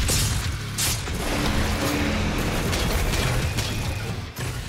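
Sticky bomb explosions from the regular shotgun in DOOM Eternal burst over dense, loud combat noise, with several sharp booms and crashes under a constant roar and no talk.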